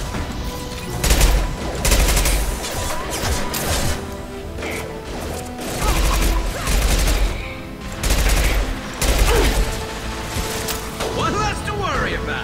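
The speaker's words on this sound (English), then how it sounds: "I don't like this little submachine gun thing I have here." Submachine gun fire and battle noise in the video game Mass Effect 2, with dense rapid bursts, crashes and impacts continuing throughout, loud and busy, with someone talking over the action.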